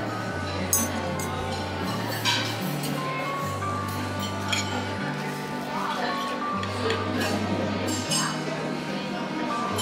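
Glasses clink together in a toast at a café table in Vienna, a few light bright chinks over a steady low background hum, with people talking nearby.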